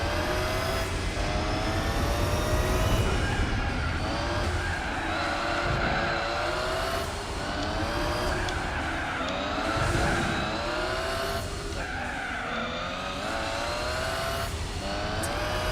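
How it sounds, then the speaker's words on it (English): Racing engines roar continuously in Gran Turismo 4 as several cars whoosh past one after another, with occasional tire skids over the steady drone. "I could actually hear the swish of the other cars there."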